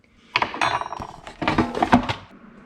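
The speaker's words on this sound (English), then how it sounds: "I'm just going to give them a little bit of a toss here with the spoon" Air fried potatoes tossed with a spoon in a basket, a busy burst of scraping clatter and metallic clinks that rises, dips, then swells again before settling into quiet.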